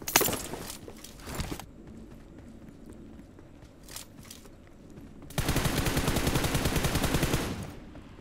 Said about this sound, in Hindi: एक गोली भी निकली, बहुत ओपी है फायर